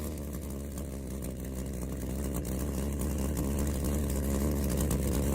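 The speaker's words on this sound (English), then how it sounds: "The scientists made an experiment to show how a basic jet engine works by using a glass jar and alcohol." A basic jet engine experiment, alcohol burning inside a glass jar, gives off a dense continuous roar that holds steady and grows slightly louder toward the end.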